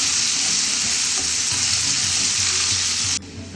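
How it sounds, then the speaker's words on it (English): Chopped red onion sizzles loudly in a hot pan with a bright, hissing spatter close by, then the sound abruptly drops away near the end as the heat or lid changes. "we're going to add 1 onion chop, and we're going to saute that until the onion turns golden brown"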